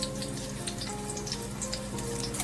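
Garlic, Scotch bonnet pepper, onion and scallion frying in hot oil in a pot, a steady close sizzle with fine crackling pops running evenly throughout.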